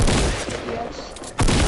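Video game gunfire, a dense burst of rapid shots, loud and close, then a brief lull before another burst starts abruptly at the end.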